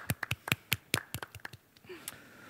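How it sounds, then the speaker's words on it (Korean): A small audience at a university talk show claps to welcome a guest. It sounds like a short run of distinct, separate hand claps from only a few people, close and fairly quiet, thinning out after about two seconds. "여러분, 다 같이 박수 부탁드립니다."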